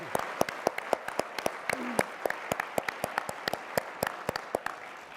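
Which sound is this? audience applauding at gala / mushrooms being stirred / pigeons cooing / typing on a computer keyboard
audience applauding at gala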